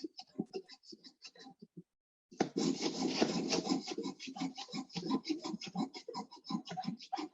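A hand saw draws steadily through a piece of wood using the full blade, with gentle, rhythmic back-and-forth rasping strokes, close and continuous after a brief quiet opening with faint movement sounds.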